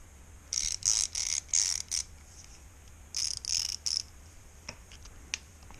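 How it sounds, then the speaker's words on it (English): A Proxxon rotary ratchet clicks in quick bursts of rapid ratcheting, five short runs, then a pause and three more, followed by a couple of single faint clicks, close and fairly quiet. "Proxxon rotary ratchet."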